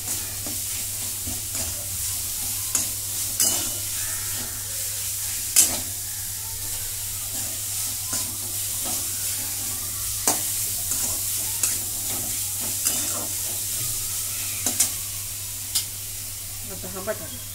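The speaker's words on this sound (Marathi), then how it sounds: "चांगलं परतून घेते." Potato filling for samosas sautéed in a pan with a little sugar and salt, giving a constant bright sizzle and regular scraping and tapping strokes of a spatula across the pan.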